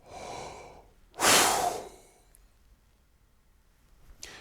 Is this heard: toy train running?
no